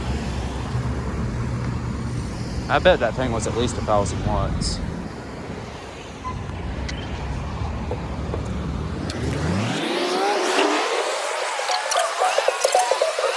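Traffic on a busy road hums and rushes past, with one vehicle sweeping loudly by near the end; someone talks over the road noise early on.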